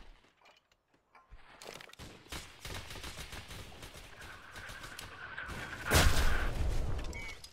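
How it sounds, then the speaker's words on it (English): Artillery shells are fired and land in the Entrenched video game, a series of distant thuds and gunfire crackles building to a louder blast near six seconds after a quiet start. "his main ability is being able to call in artillery with his binoculars"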